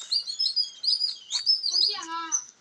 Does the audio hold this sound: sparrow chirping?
yes